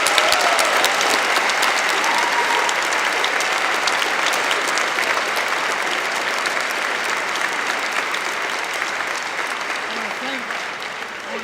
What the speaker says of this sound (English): join me in another round of applause for our guest